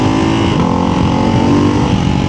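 A Ducati Hypermotard 698 RVE supermoto with a quick shifter accelerates on a bumpy road, its single-cylinder engine a loud, steady, close-up drone pulling hard without pause.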